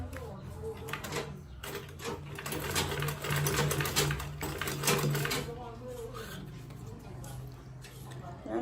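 A domestic sewing machine stitching a clutch purse runs in bursts of rapid mechanical clatter, stopping and starting as the thread jams, with someone talking over it.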